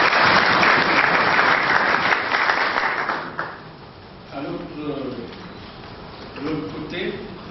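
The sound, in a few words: audience applause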